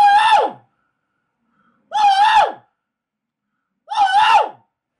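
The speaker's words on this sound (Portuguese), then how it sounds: "E vou dar um grito." Three loud, separate screams from one person, each about half a second long with silence between them, made from inside a home studio while testing its acoustic insulation.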